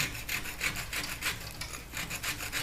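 Loose paint being scraped off the rusty metal of a Sub-Zero 511 refrigerator, a close, steady rasping scrape repeated in rhythmic strokes with no talking.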